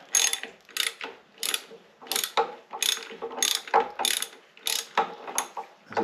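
A ratchet wrench tightening a bolt while reassembling a 1928 mechanism, heard as about ten rhythmic bursts of rapid clicking, close and fairly loud, with no talking.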